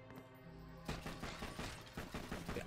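Rapid gunfire from the Borderlands 2 video game starts abruptly after a quiet moment and continues in a dense, even burst of shots, fairly faint overall.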